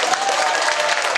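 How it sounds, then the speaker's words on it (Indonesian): Audience applause at a scripture quiz competition, dense continuous clapping from a crowd, loud and steady throughout the short burst. "Tepuk tangan."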